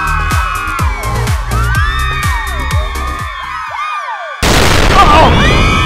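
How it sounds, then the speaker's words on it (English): A staged explosion for a comedy sketch begins as a sudden loud, broad burst that cuts off a busy stretch of whooping, whistling effects and thumps. A dense blast roar follows to the end. "Mr. Cowboy Hat, can I not do the explosion"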